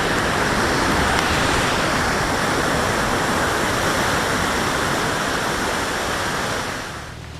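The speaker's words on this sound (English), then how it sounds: "we're passing Telltale Creek, and it's raging right now." Telltale Creek in Yosemite's Hetch Hetchy area rushes in a raging spring flow, a loud, steady roar of broadband water noise that holds constant before easing slightly at the very end.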